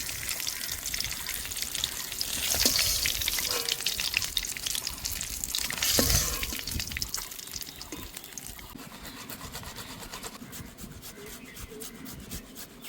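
Pieces of katla fish finishing in hot frying oil give a continuous crackling sizzle mixed with rubbing and scraping of a utensil in the pan, louder in two short surges, with no talking.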